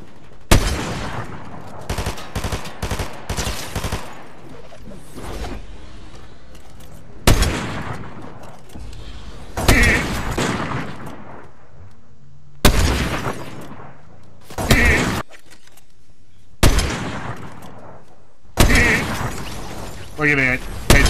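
Sniper rifle gunfire in a Peter Griffin cartoon: loud, sharp shots ring out one at a time every two to three seconds, with a voice speaking between some of them.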